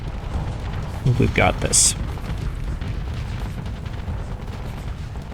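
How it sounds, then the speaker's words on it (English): A missile barrage slams into an enemy ship in a space fleet battle, a quick cluster of booming impacts and bursts over steady low rumble, with a voice speaking briefly during the hits. "Little missile barrage."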